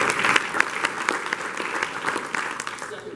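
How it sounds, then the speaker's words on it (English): A crowd gives a steady, full round of applause for the mayor of Indialantic, a small beach town, with dense clapping holding strong for about three seconds before easing slightly. "Let's give him a big round of applause for that."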